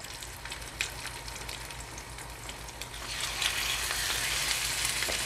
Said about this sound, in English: And you do want that sizzling sound.